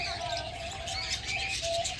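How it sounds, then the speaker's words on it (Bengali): Small birds chirp and tweet in a park, a steady scatter of thin, high calls over a soft outdoor hum with no talking. "ছোট ছোট কত পাখি।"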